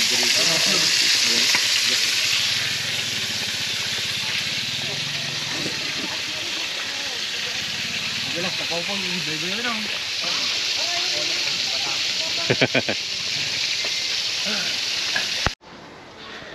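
Loud, steady sizzling of lapu-lapu and stonefish frying in hot oil at a beach in Ilocos Norte, a dense hiss throughout, with faint voices in the background and a brief clatter near the end.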